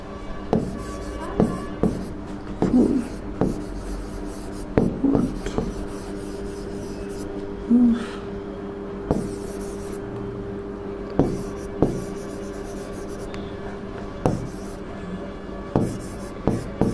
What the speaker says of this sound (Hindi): तो मैं क्वेश्चन लिख लेता हूँ।